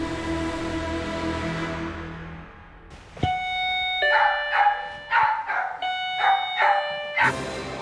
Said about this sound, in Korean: 아이고 많이 짖는구나.